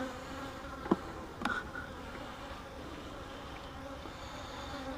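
Bees and wasps buzz steadily around a mating nuc hive that holds a wasp nest at its top, a close, continuous insect hum with a couple of brief knocks near the start.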